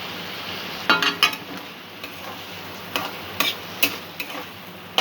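A spoon stirs a chhena and ground pointed gourd stuffing in a pan with a faint, steady sizzle, broken by a few light scraping clicks against the pan.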